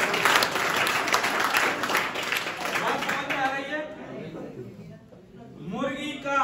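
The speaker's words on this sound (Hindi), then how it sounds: "उसके लिए जबरदस्त ताली है।" Hearty audience applause at a motivational talk, loud and dense for about three seconds, then thinning into scattered claps and a voice speaking before a brief renewed burst of clapping near the end.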